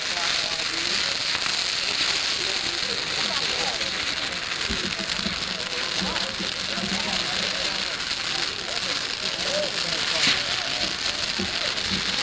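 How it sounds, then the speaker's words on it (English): Girandola flying firework display at the 1996 PGI fireworks convention in Muskegon, Michigan, heard as a continuous fizzing, crackling roar with scattered pops, dense and sustained, with faint crowd voices underneath. "Now the Girandola is a flying firework."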